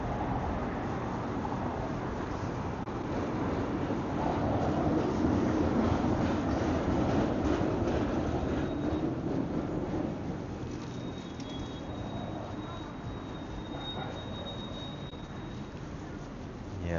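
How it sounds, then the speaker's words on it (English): Trams pass along a street in Helsinki's Vallila and Kumpula area on a busy flea market day, a steady rolling rail rumble with a faint high squeal, mixed with crowd noise and some talk. "this feels like more Helsinki because trams are making noises"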